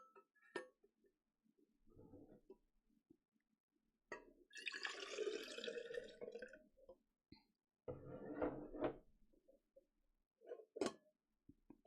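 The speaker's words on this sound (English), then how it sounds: "I'm gonna fill up my water." Water runs from a tap into a container in bursts, with a few drips and clinks of glass between pours and quiet pauses, close by indoors.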